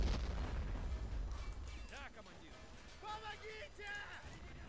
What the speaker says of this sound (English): I've got other tanks shooting at us as well